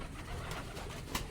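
A pair of breeder pigeons coo steadily in a breeding loft, the soft throaty calls close and continuous for the whole moment with no talk.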